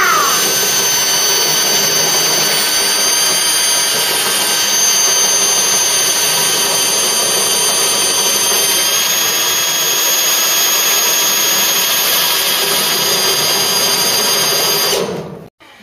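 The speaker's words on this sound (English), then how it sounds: "I'm using the flat spot weld drill bit" A loud, steady high-pitched whine of a flat spot weld drill bit boring into the steel of a Ford Cortina Mk3, running continuously for about fifteen seconds before cutting off abruptly.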